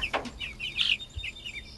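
Backyard chickens and roosters in a coop give faint, scattered clucks and short high chirps at a distance.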